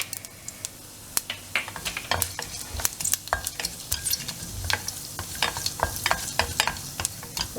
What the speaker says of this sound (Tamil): அதில் கடுகு பொரியுது, உளுத்தம்பருப்பு, இதோட வந்து இந்த சீரகத்தையும் போட்டுருவோம்